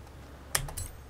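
A single quick key press on a computer keyboard, a faint close click followed by a softer second tap, in a quiet room.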